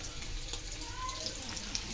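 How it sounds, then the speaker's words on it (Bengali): Paneer frying in a pan makes a soft, faint sizzle, close by, with light crackles and a brief scrape across a short moment. "এদিকে পনিরটা ভাজা হচ্ছে,"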